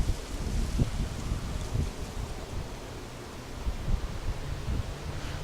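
Wind blows outdoors at night in a steady broadband rush with gusty swells and occasional low thumps of buffeting, moderately loud and continuous with no one speaking.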